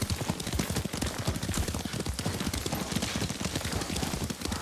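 Rapid, steady hoofbeats of a galloping horse in the video game Ghost of Tsushima pound continuously and loudly throughout, with a dense rush of background noise.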